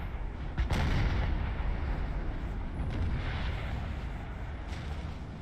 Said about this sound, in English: Ah, artillery strike.